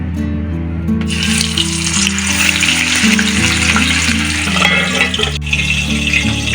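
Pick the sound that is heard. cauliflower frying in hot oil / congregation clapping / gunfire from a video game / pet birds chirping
cauliflower frying in hot oil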